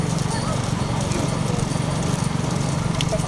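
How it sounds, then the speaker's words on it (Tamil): Racing bulls pulling carts in a bullock cart race: a dense, rapid drumming of hooves and wheels rumbling loudly and continuously under an announcer's shouted commentary. "ஓரமா நின்றுங்க மாடு வருது"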